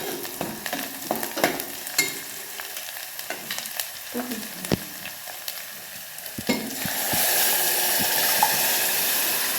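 Fenugreek leaves are tossed into a pan of roasted garlic and chilli for a besan methi dish. Spoon clatter and scraping come first, then a louder, steady, close sizzle takes over.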